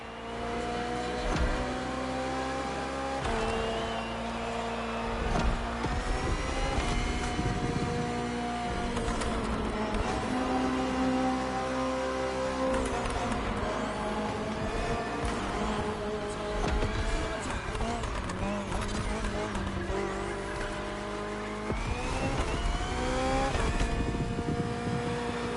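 The BMW M Hybrid V8, a 2023 endurance race car built for events like the 24 Hours of Le Mans, roars continuously in The Crew Motorfest racing game, its engine revving and shifting through gears, loud and sustained throughout.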